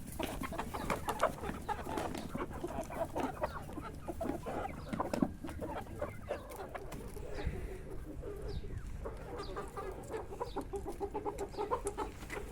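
Chickens cluck and chatter close by while being fed chopped cabbage, a busy overlapping flock with occasional louder calls over a steady background.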